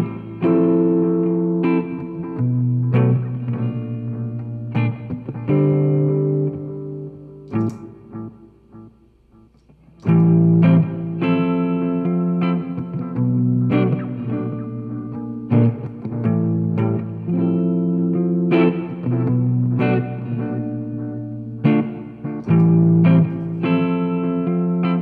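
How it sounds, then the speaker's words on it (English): Electric guitar playing chords and single notes through a looper pedal placed first in the signal chain, with drive, reverb and delay on the tone. The playing is loud and sustained, with one brief near-silent gap midway and no talking. "we got some drive and some reverb and some delay on the sound"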